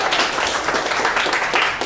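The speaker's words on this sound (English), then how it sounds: "Clap, clap, clap." Students clapping in a classroom, a steady dense patter of many hands filling the short stretch, close and fairly loud with no pauses.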